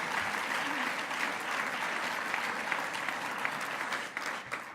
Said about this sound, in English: we can clap for Nahanni and her great roles anytime